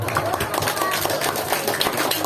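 Listeners clap during an Islamic lecture held at an elementary school, SD Negeri Puncak Jaya, giving a short burst of fairly soft, scattered applause that lasts about two seconds.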